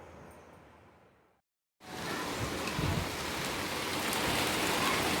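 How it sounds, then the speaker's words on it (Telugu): Steady rain falling during a sudden gusty downpour, a dense even hiss that cuts out briefly and then returns louder and continues without pause, with no voices. "వర్షం వస్తుంది."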